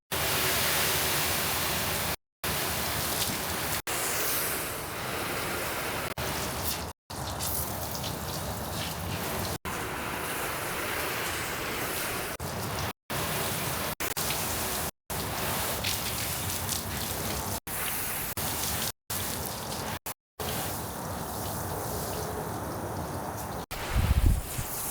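Water sprays steadily onto a car during a rinse after a rinseless wash, a dense close hiss that runs continuously with several abrupt brief cut-offs as the flow stops and restarts.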